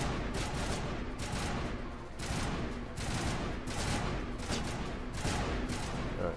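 Sustained squad gunfire in Mass Effect Legendary Edition, a dense fusillade of rapid shots crackling continuously for several seconds at steady loudness with no talk.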